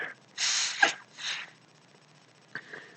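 A single close sneeze with a sharp inhale before it, followed by a quieter breath and a small sniff in an otherwise quiet room.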